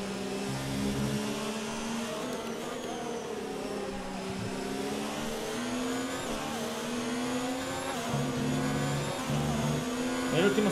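Race car engine in the F1 2019 video game, racing at the Chinese Grand Prix, droning steadily at high revs with rising and falling pitch shifts through gear changes, loud and continuous throughout.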